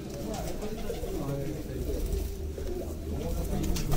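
Soft, throaty pigeon coos roll on continuously in a low murmur, several birds overlapping steadily with a busy background.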